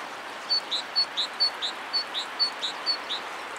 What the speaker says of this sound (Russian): А, это вон птичка поет.